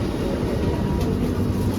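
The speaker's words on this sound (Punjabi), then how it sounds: "ਅੰਡਰਗਰਾਉਂਡ ਚੱਲਦੀ ਹੈ ਇਹ ਤੇਜ਼ ਵੀ ਚੱਲਦੀ ਹੈ" An underground metro train in Malaysia runs at speed, a steady loud rumble and roar heard from inside the carriage, with no voices.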